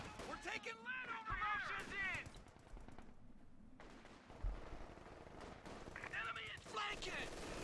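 A .50 cal machine gun fires in Company of Heroes 2 as bursts of gunfire and impacts, heard under near-continuous commentary from a caster.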